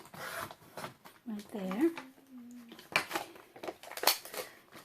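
Scissors cut a piece of paper for a 6-by-6-inch mini album, giving short rasping snips close to the microphone while someone talks over them.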